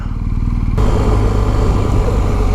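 A BMW 1250 GS motorcycle engine while riding, heard close and loud: a rhythmic low idle-like thrum suddenly gives way to a dense, rough roar as the bike pulls away, no talking.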